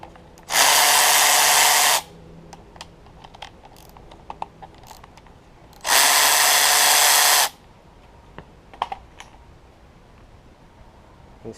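Power tool driving out the bolts on the top timing chain guide of a Honda Civic FA5 Mugen Si engine, two loud, steady whirring bursts of about a second and a half each, with quiet clicks and handling noises between.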